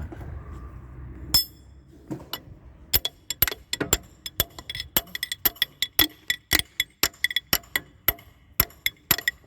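A car part is struck repeatedly with a metal tool to pry it open: sharp, close clinks and taps, a few at first, then a quickening, irregular run of hits over faint background noise.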